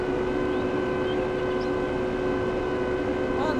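A John Deere lime spreader's engine drones in a farming video game, a steady, loud, unbroken mechanical hum with a fixed pitch that stays level for several seconds.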